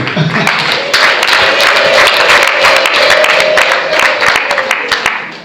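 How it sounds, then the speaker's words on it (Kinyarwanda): A crowd claps at a Rwandan engagement and dowry ceremony, a loud, dense wash of applause lasting about five seconds, with a little voice mixed in. "Ngaho nimongere bamuha amashyi none"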